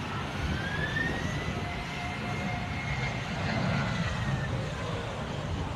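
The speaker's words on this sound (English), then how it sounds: "One singular man traveling couldn't have a much tinier plane?" The engine of a small private plane drones steadily and fairly loudly throughout, with a faint whining tone gliding slightly in pitch above the rumble and no voices.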